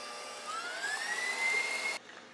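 A food processor whirs through fruitcake batter with brandy, its motor pitch rising steadily over a short spin before cutting off abruptly, leaving a faint hum.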